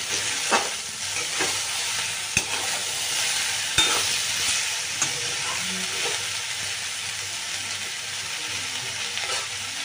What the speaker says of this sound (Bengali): কাঁচা লঙ্কা বাটাটা দিয়ে আবারও সুন্দর করে নাড়াচাড়া করে দিচ্ছি।